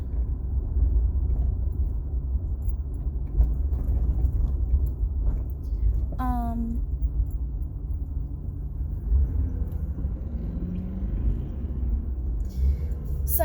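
An older car cruises on the road on New Year's Eve, a low steady engine hum and tyre rumble carrying throughout, with a brief whistling squeal midway and faint traffic sounds.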